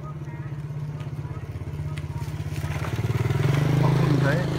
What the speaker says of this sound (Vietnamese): Các bạn chuẩn bị có một người xe máy đến nha.